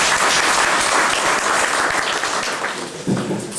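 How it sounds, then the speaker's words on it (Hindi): Loud, sustained applause from a crowd of businessmen at a customer meet, many hands clapping together in a thick continuous wash without pause. "एक बार भार्गव साहब के लिए जोरदार तालियां बजा दें"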